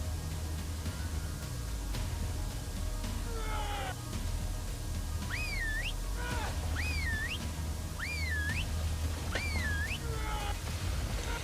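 A whistle command sounds in Ark: Survival Evolved, with a rising then falling whistle repeated four or five times at a steady pace over constant game background noise.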